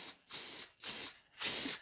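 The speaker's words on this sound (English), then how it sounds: "we're just going to spray this just like you're spray painting something" A can sprays oil coating onto a UNI air filter for a CFMOTO ZFORCE 800 EX, in three close, even hissing bursts separated by brief pauses.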